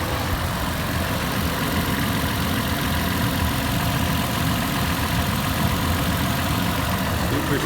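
A 2016 Toyota 4Runner's 3.5 engine idles with the hood open, a steady, even rumble close to the mic that holds constant with no revving and no talking over it.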